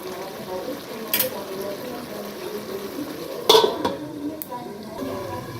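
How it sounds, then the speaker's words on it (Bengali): Metal lid set onto a pot of cooking goat mutton, a sharp clank near the middle after a lighter knock earlier, over a steady low simmer and kitchen background. "আবার আমি পাঁচ মিনিটের জন্য ঢাকা দিয়ে দিচ্ছি"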